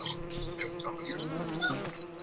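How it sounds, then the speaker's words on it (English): Bees buzz and attack in the survival video game Don't Starve Together, a dense, steady insect drone with shifting wingbeat whines that stays close and loud throughout without speech. "that bee snuck up on me while I was fighting another bee"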